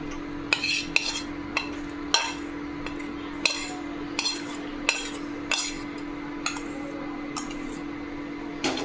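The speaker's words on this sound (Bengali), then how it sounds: "এটাকে মিক্সার জারে ট্রান্সফার করে নিচ্ছি।" A spoon repeatedly scrapes and knocks against a mixer jar in irregular strokes while tomato chutney is spooned in, with a steady low electrical hum running underneath.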